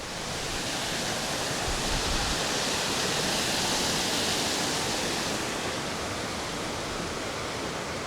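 A mountain waterfall in Montenegro in November roars with a constant, full-bodied rush of water, loud and unbroken from start to end, with no voices over it.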